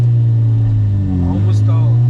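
A supercharged Acura RSX engine lugs low and nearly stalls, a heavy steady hum with sagging pitch, loud and close, while a person talks briefly over it.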